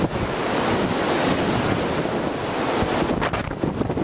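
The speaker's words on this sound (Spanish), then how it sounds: "Nunca vi un viento tan fuerte" Very strong wind roars over open ground at Cerro Corá, a loud, continuous buffeting rush battering the microphone with gusty surges throughout, no voices.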